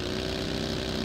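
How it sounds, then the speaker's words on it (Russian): A PUBG tractor engine runs steadily, a constant close mid-pitched rumble with a faint rhythmic chug and no break in level. "Трактор бегает на ул."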